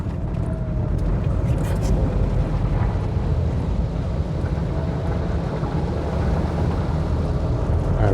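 A Berlingo microcamper van drives through flood water on a road in stormy weather, giving a steady, loud, broadband rumble and wash that lasts throughout without a break.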